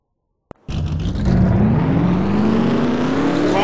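Engines of a field of NASCAR Nationwide Series race cars in a video game fire up after a click, then settle into a loud, sustained multi-car roar that swells and holds steady without any talk.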